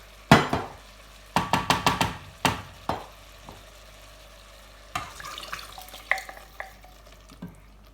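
A spoon works a handful of thyme into shepherd's pie filling in a pan, with irregular clusters of light metallic clinks and scrapes separated by quiet pauses, close and fairly soft.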